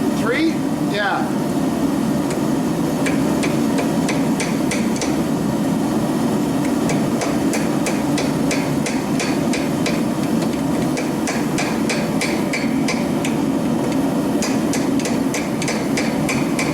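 A brand-new rounding hammer strikes hot steel while forging a hook: sharp metallic blows in steady, quick runs with brief pauses between sets, close and ringing over a constant droning hum.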